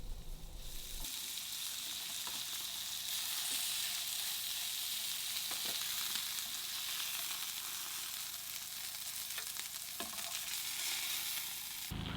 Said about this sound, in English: Place the lamb in the pan, then cook each side 2 to 3 minutes.